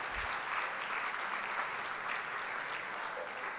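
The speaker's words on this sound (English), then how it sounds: "Clap your hands if you feel it." Sustained applause from an audience at an achievers honors ceremony, a steady even wash of many hands clapping together, moderately loud and unbroken for several seconds.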